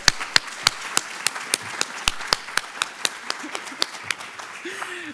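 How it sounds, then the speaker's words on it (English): Sparse clapping from a small audience at a divinity school alumni event in a campus hall, distinct individual claps in an uneven rhythm, fairly close, thinning out toward the end. "So let's have a round of applause."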